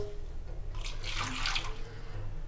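Hot water poured over a mixer grinder jar and its lid to wash off greasy residue after making ghee at home, a brief soft splashing pour rising and fading over a faint background hum.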